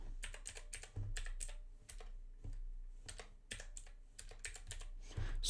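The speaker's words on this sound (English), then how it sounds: "Sorry, my typing skills are not good today." Fast, irregular clatter of keys on a computer keyboard, continuous and close, with short pauses between bursts of typing and no speech.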